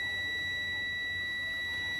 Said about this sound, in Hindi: ये बीप की आवाज़ आ रही है यहाँ पर।